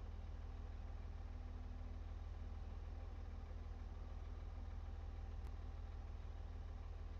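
A tractor engine idles in Farming Simulator 17 as a quiet, steady low hum with an even mechanical drone that continues without change from start to finish.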